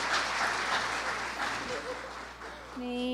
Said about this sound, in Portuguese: Pode vir, salva de palmas